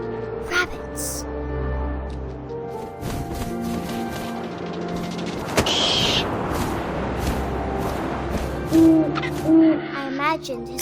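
An owl hoots softly a few times in the video game What Remains of Edith Finch, brief low calls coming near the end over a bed of ambient game sound, with a voice talking through much of the scene.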